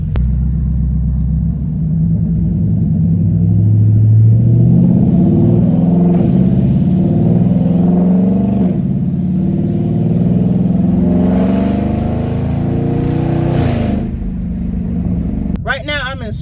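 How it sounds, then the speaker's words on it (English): A 2021 Dodge Charger Scat Pack widebody with a fully straight-piped exhaust rumbles loudly and close, its deep engine note rising as it pulls away in sport mode, with a person talking over it. "I'm just take off so you can hear the exhaust sound."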